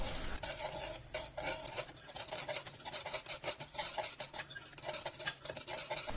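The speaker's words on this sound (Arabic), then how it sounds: "ونحركوهم هكا بالركاضة باش تعاونك باش ما تتكعبرش" A whisk scrapes rapidly and continuously around a pot of barley flour mixed with salt and olive oil, making a close, steady rasping and clinking rhythm with no voices.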